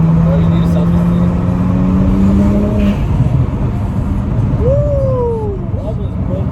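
A modified car with a newly installed front-mount intercooler pulls hard at full throttle, its engine droning loud and close, with rising tones from shifts and road rush, while voices talk over it.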